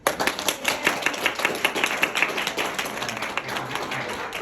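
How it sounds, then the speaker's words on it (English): A community crowd claps for an attorney; quick, dense handclaps sound fairly close and steady throughout, with some shuffling in the background. "Round of applause for Seth"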